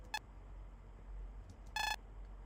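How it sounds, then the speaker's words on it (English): Emergency phone call button pressed in a video game: two short electronic beep tones over quiet hum, a brief one and then a longer one, no talk. "Amelia picked up the emergency phone and pressed the call button before handing it to Tegan"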